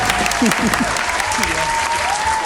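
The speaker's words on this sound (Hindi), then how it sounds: "जोरदार तालियां" Loud, sustained applause from a studio audience on a Pakistani comedy game show, a dense wash of clapping with a few voices calling out over it.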